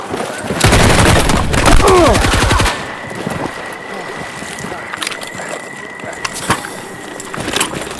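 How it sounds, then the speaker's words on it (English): Rapid, loud automatic gunfire rattles for about two seconds in a Battlefield 6 campaign battle, followed by scattered shots and a steady mechanical hum, with shouted voices over the combat. "Take them out! Open fire!"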